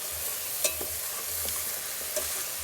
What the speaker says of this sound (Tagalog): ginisa ko na siya sa bawang sibuyas, luya